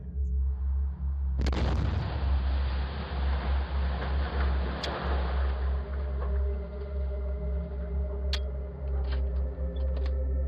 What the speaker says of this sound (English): This doorbell camera recorded a house explosion that happened in the middle of the night.